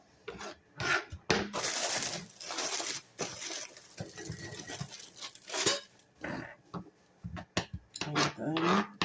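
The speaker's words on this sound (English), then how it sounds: "Chop an onion, you gotta peel it." Papery outer skin being peeled off an onion in a home kitchen while cooking a vegan dish: close, dry crinkling and rubbing in irregular bursts, with short pauses between tears.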